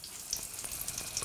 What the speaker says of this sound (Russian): Масло растапливается.